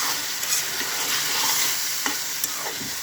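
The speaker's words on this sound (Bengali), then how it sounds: "মিডিয়াম টু হাই হিটে এটাকে ভাজি করছি।" Food fries and sizzles in a pan over medium-high heat, a continuous hiss broken by a few soft scrapes and knocks from stirring, close and fairly loud with no talking.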